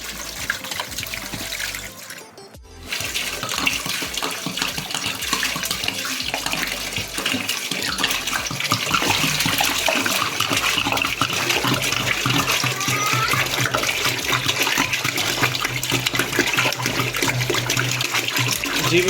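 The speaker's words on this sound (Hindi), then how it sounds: "पानी ऐड कर देंगे।" Water pours loudly and continuously into a cooking pot for a desi ghee gobhi aloo or beef paya dish, a steady rushing stream that builds and stays full after a brief pause.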